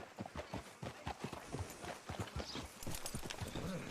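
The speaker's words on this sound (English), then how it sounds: "Can you grab Anders off your horse and carry him in for me" Horse hooves clop in a quick, steady rhythm of close hoofbeats in the Red Dead Redemption 2 video game, with the sound carrying on continuously throughout.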